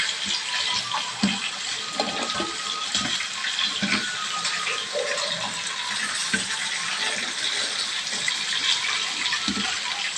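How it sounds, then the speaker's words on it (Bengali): Coriander leaves being washed by hand in water make continuous splashing and sloshing with small clinks and knocks, close and moderately quiet, without any talk. "ধনে পাতাগুলোকে এখন আমি একটু ভালো মতন জলে ধুয়ে নেব"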